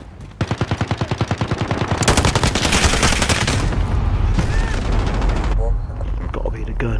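Rapid automatic gunfire from a gun in Call of Duty: Modern Warfare, a quick rhythmic burst of shots building into a dense, loud volley of overlapping fire and booms, fading near the end.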